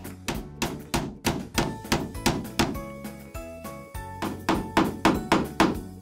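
Repeated hammer blows drive a nail into wood while building a pinball machine, striking in a steady rhythm, sharp close thuds with a ringing tone, pausing briefly midway before the pounding resumes.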